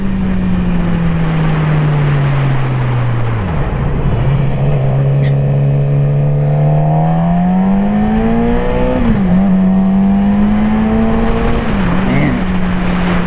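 A car engine drones loud and close inside the cabin, holding a low steady pitch before rising and dipping through revs as it accelerates, with a surge in the upper range; a voice talks over it.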